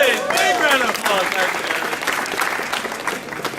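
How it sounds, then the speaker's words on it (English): A crowd at a Fossil of the Day award ceremony gives a big round of applause, with steady dense clapping and cheering, and excited voices rising over it at the start. "Round of applause, please. Big round of applause."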